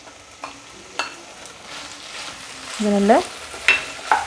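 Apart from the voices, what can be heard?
chopped tomatoes frying and being stirred in a pan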